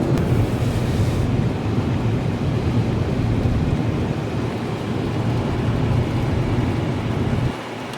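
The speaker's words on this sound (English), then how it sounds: "It's been real windy though" Strong wind roars and buffets close by for several seconds, a dense rushing noise that eases slightly at the very end.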